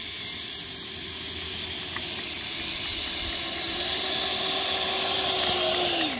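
A steady, high-pitched whine of the twin 70mm electric ducted fans on a Freewing Messerschmitt Me-262 model jet roars continuously, swelling slightly louder before the pitch drops as the throttle eases off.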